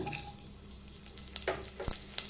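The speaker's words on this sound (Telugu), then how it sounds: "నెయ్యి హీట్ ఎక్కాక హాఫ్ స్పూన్ ఆవాలు, హాఫ్ స్పూన్ జీలకర్ర వేద్దాం" Mustard seeds, cumin, green chilli and dried red chilli crackle and sizzle in hot ghee, a soft steady frying hiss with scattered sharp pops, close and alone with no talking.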